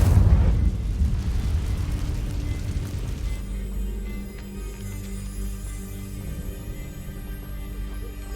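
An Incendio fire spell goes off in Hogwarts Legacy as a loud low whooshing burst that fades into a lingering crackling rumble, with no talking.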